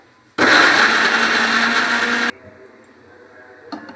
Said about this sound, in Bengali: এবার আমি আদা, রসুন আর টমেটো একসঙ্গে জল ছাড়া পেস্ট করে নেব।